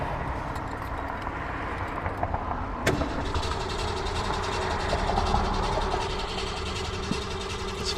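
The flooded engine of an original Shelby Cobra struggles and sputters, a rough uneven rumble with a sharp mechanical clack early on, then a steadier throaty idle running close by.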